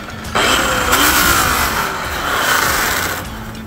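Polishing buffer spinning as compound is pressed against the buff, a loud steady whirring roar starting abruptly after a brief pause and holding with a rough rubbing texture until it cuts near the end, close up.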